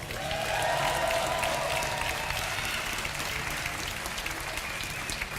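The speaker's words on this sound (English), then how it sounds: "Give a big cheer for Evil Genius's Jaedong." A large esports crowd cheers and applauds loudly and steadily as a StarCraft 2 player is introduced at a live tournament, a dense roar of clapping and whoops throughout.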